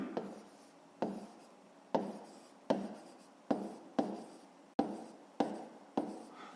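Handwriting while working out a 5th-grade maths exercise on boat speeds and distances: a pen scratches across paper in repeated strokes, each starting sharply and trailing off, close and clear with no talking.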